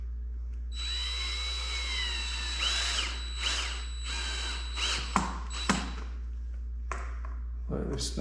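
A power drill whirs in short bursts while fitting and tightening handguard bolts on a 2021 KTM 300 XC motorcycle, the motor spinning up and stopping with clicks and ratchet-like snaps against a steady low hum.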